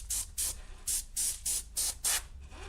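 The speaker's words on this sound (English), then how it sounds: "And I'm going to use an airbrush." An airbrush sprays paint in seven short, evenly spaced bursts, each a sharp close hiss of air with brief gaps between, over a low background hum.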